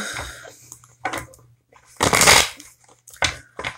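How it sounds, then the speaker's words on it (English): A deck of cards being shuffled up close, with a few loud, riffling bursts separated by brief pauses and handling noise. "I'm gonna get my cards to shuffle, they're not cooperating"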